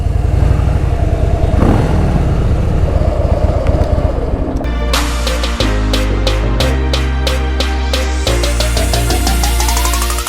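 Motorcycle engines rumble and rev steadily in a parking area at a roadside breakfast stop, loud and continuous, with several pulsing rev bursts in the second half.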